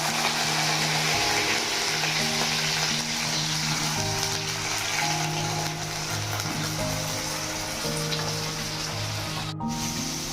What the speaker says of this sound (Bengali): এই যে আলুটা দিয়ে দিলাম কড়াইয়ের মধ্যে